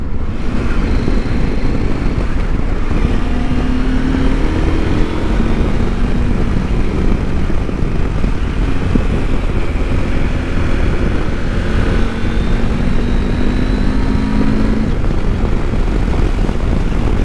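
A Husqvarna Norden 901 motorcycle rides at speed, its engine a steady loud drone with shifting tonal whine, under heavy wind rush throughout and no talking.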